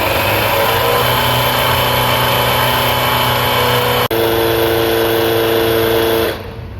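A YIYYA portable tire inflator from a 3000A jump starter kit pumps up a car tire, a loud steady buzzing drone with one short click partway through before the motor cuts off near the end.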